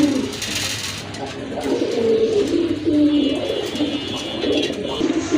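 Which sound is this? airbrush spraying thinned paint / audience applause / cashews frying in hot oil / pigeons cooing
pigeons cooing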